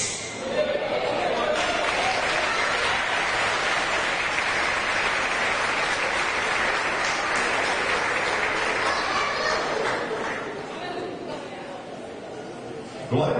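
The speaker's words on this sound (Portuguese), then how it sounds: "aplaude ao Senhor mais uma vez" Congregation applause at a Portuguese-language church service, a steady wash of many hands clapping that fills the room for over ten seconds with voices mixed in, then eases slightly near the end.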